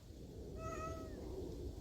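Stray cats in a tense street standoff, one meowing a single drawn-out, rising and falling cry that stands clearly above a steady low background rumble.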